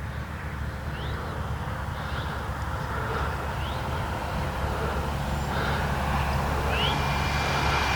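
Freewing Avanti S V2 80mm electric ducted-fan RC jet in flight with gear and landing flaps down. A steady broad whooshing roar holds through the clip and swells slightly near the end, with faint bird chirps in the background.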